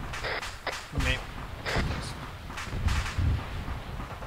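Gunfire in the military shooter Arma thumps in heavy, spaced bursts over several seconds. A few shots are sharper and nearer, others dull and distant, with players' voice chat running over them.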